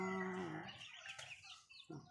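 Chickens clucking in a Lao village yard, a few short throaty calls close by, the loudest at the start, with quieter rustling and a last burst near the end.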